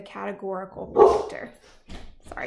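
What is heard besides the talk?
dog barking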